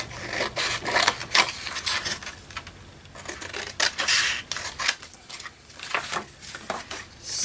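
Scissors cutting paper for a handmade lapbook craft, a run of close, crisp snips and rustles with uneven rhythm and short pauses.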